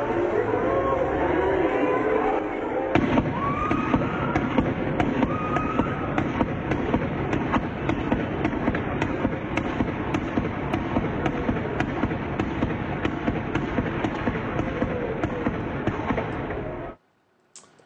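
Gunfire from a rooftop shooter at a street parade: a dense, continuous stretch of sharp cracks and pops over loud crowd noise and shouting voices, running for most of the clip before cutting out.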